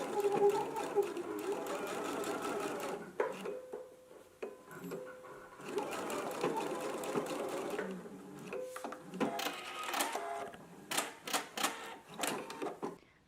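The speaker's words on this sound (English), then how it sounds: "So I'm just going to back stitch here, stitch from the large circle to about an inch, inch and a quarter away from the circle." A home sewing machine back stitches fabric for a sewing pattern, whirring in steady mechanical bursts with short pauses and handling clicks between runs, quite close.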